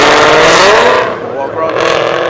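A Chevy car engine revs hard close by, a loud rising and falling roar that dips briefly and then surges again, with voices talking over it.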